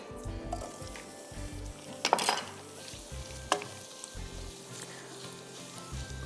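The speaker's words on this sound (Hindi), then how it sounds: "हम हल्का सा इसको सौते कर देते हैं ताकि दाल और आलू में इसका टेस्ट आ जाए।" Boiled chana dal and potatoes with spices sizzle in a pan while being sautéed for daal bun kebabs, with a steady fry hiss, bursts of scraping and stirring, and a low hum running underneath.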